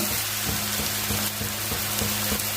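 Tapioca pakkavada fritters fry in hot oil, a loud, close, continuous sizzle with rapid bubbling that pulses in a regular rhythm, with no voices.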